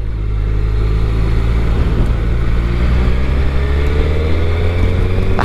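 A 2021 Suzuki Hayabusa's big, smooth engine revs with a steady, loud drone and a rising pitch across the stretch, heard alone without speech.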